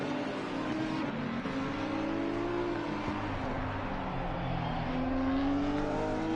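A GT3 race car in Assetto Corsa Competizione lapping Zandvoort: a continuous loud engine drone whose pitch climbs and falls through the gears, steady and close, with no other sounds over it.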